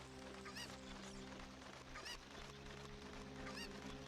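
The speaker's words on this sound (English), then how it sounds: "And now we use the chicken to get over here." A chicken (cucco) clucks and honks in short calls in The Legend of Zelda: Ocarina of Time, spaced about every second and a half over a steady bed of game music.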